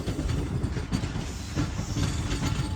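A train approaching a double diamond crossing near Rohri Junction at about 15 km/h, heard as a steady, loud low rumble with repeated wheel knocks. The rhythm is irregular and there is no talking.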